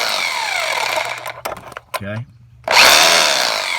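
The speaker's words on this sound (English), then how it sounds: "Some guys use an air chisel, but I got it off with the hammer gun." Pneumatic hammer gun rattling against the fan clutch of a Duramax engine, loud bursts of hammering broken by a short pause and a brief spoken word, then resuming strongly.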